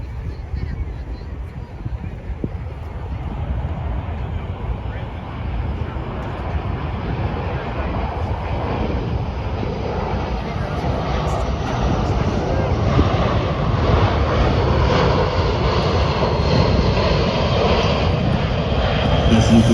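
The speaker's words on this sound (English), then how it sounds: "As you can see, the C-17 is extremely maneuverable at both high and low speeds" Boeing C-17 Globemaster III military transport jet flying a display at the Dayton air show in Ohio, a steady loud engine roar that swells gradually, mixed with wind buffeting on the microphone throughout.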